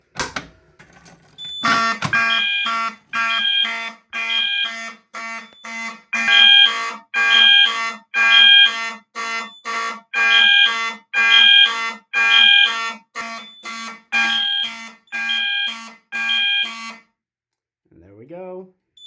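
A fire alarm set off from a Notifier NBG-12SL pull station repeatedly sounds a loud, harsh electronic horn in steady pulses, about a dozen blasts in a row, then stops abruptly.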